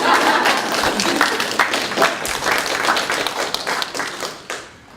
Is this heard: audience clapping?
yes